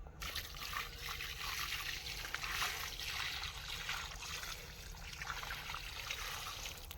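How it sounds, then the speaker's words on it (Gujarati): Water poured from a bucket onto young trees on a farm, a steady broad splashing trickle that runs for the whole stretch at a fairly even level, with no talking. "તો આને હવે 2 ડોલસી પાણી નાખી દઈએ."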